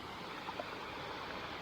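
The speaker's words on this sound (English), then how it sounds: "We're back at the waterfall where we stopped off last time." Steady rushing water from a waterfall beside Buttermere lake on a circular walk, heard as a constant broadband wash at moderate distance with no voices.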